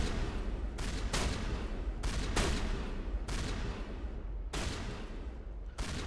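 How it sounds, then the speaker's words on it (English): Sustained gunfire in a Mass Effect firefight against Geth, rapid bursts of shots that run almost continuously, broken by a few short pauses, at moderate loudness with a reverberant battle wash. "What are they shooting at?"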